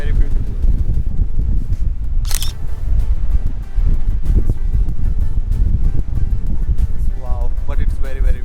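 Strong wind buffets the microphone outdoors at a scenic viewpoint above Ålesund, Norway, a steady loud rumble lasting throughout with a brief gusty burst partway and faint distant sounds near the end.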